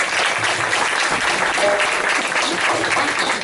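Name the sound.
audience applause for the music composer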